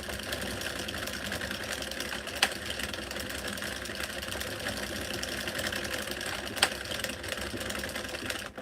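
A Loombot circular knitting machine cranking through a stubborn yarn, giving a steady, close mechanical whirring hum with a fast rattling texture and two sharp clacks, no voices over it.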